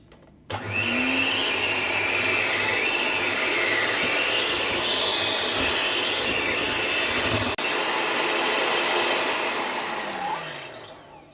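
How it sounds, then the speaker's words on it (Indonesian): Electric hand mixer beating cake batter for pineapple-jam-filled Lekker Holland, switched on abruptly and running loud and steady for about ten seconds with slight pitch wavers, then winding down. "Lalu setelah itu baru deh kita mixer."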